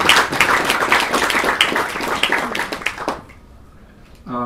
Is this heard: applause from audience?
yes